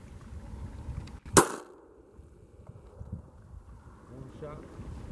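A 20 gauge shotgun fired once at diving ducks while hunting on public land in Alabama, a single sharp, loud blast amid wind noise, with people talking around it.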